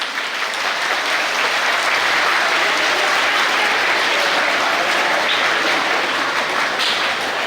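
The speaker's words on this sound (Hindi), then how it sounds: "हैप्पी इंडिपेंडेंस डे, जोरदार तालियों के साथ प्लीज़।" Steady, dense applause from a large audience at an Independence Day event, loud and continuous throughout without letting up.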